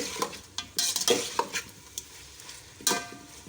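Green masala chicken fries in a pan on a high flame, a soft sizzle broken by a handful of spoon scrapes and clinks against the metal as it is stirred.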